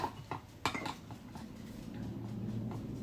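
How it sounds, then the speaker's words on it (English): A spoon clinks against a bowl while rice starch paste is stirred. There are a few light scrapes and taps, including one sharper clink, over a low steady background. "I'm just mixing it"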